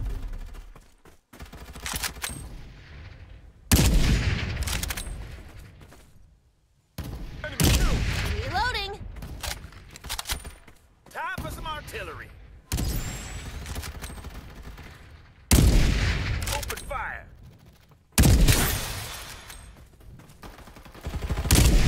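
Gunfire in the battle royale game Farlight 84: repeated loud bursts of rapid shots in separate volleys with brief silent gaps, alongside game voice callouts.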